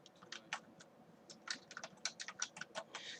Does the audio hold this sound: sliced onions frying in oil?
no